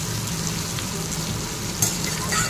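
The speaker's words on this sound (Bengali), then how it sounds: "তেজপাতা আর গোটা গরম মশলা দিয়ে পেঁয়াজগুলো দিয়ে ভাজছি।" Onions frying in oil with bay leaf and whole garam masala for a Bengali liver curry, giving a steady, close sizzle throughout with a few light stirring clinks and no talk.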